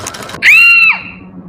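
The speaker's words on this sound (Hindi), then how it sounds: "आकांक्षा के मुंह से चीख निकल गई और वो दौड़ती हुई वॉश बेसिन तक गई।" A woman's sharp, high scream after her finger gets caught in a sewing machine, a single loud cry lasting about half a second that trails off into quiet background.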